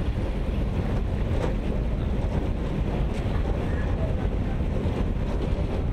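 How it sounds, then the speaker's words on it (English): A boat's steady rumble near Mykonos, mixed with wind buffeting the microphone and water rushing, continuous and loud throughout. "Whoa, look at that boat."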